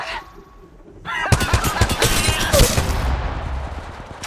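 Gunfire in the Apex Legends video game, a sudden loud burst of rapid automatic shots that starts after a quiet moment and then fades into lingering echoes.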